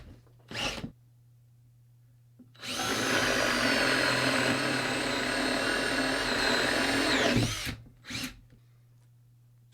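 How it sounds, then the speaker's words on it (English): A cordless drill bores holes for a homemade fabric rack in one long, loud, steady whine of about five seconds, framed by brief short bursts before and after, with no talk. "The holes have been drilled."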